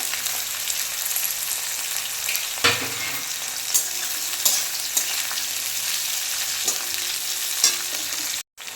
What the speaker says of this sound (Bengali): এবার আমি এই যে কেটে রাখা গোল গোল করে উচ্ছেটা দিয়ে ভেজে নেবো